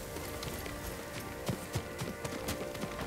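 Horse hooves clip-clopping in the video game Ghost of Tsushima, a steady run of close hoofbeats with a few louder strikes over a continuous background of game ambience.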